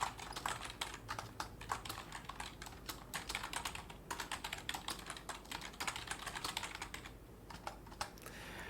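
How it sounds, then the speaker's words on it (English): Fingers tap out a message on a computer keyboard in quick, uneven bursts of crisp clicks close to the microphone, pausing briefly near the end. "while you type your message,"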